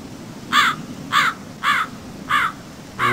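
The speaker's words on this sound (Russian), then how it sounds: "Ох, и ворон громкий." Loud raven cawing in the video game Gothic II: five harsh, evenly spaced caws about half a second apart, standing out clearly over a faint ambient background.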